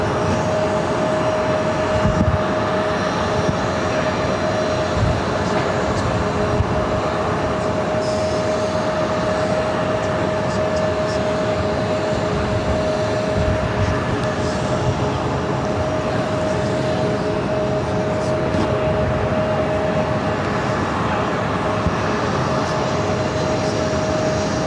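Boeing 737 MAX 8 jet at Phoenix airport, a loud, steady engine roar that stays constant throughout, with a faint tonal whine running under the broadband rumble.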